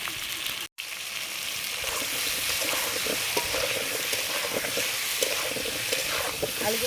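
Potato pieces with turmeric and salt fry in a pan with a continuous, close sizzling hiss, broken by stirring scrapes and one brief cut-out near the start.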